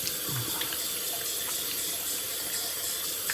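Tap water runs steadily into a sink as a straight razor blade is rinsed, a close, even hiss with faint splashes and no talking.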